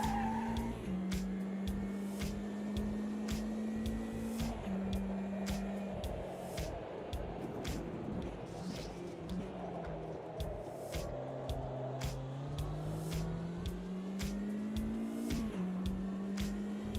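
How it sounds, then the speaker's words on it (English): Racing video game car sliding all four wheels on cold tyres, a steady engine drone with long, continuous tyre squeal running throughout, loud and close with no talking. "nice amount of four-wheel slide through there"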